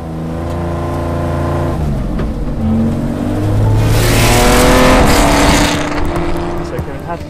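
A Porsche 911R engine driving, loud and close, with gears shifting as it accelerates and revs rise, swelling to a roaring peak midway before easing off.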